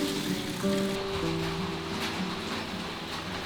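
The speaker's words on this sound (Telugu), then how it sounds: "ఈ వర్షం పడినప్పుడు వచ్చే సౌండ్స్ చాలా ప్లెజెంట్గా ఉంటాయి కదా." Steady rain pattering on a surface, a continuous soft wash of drops with no talking, while low tonal background hum runs beneath it.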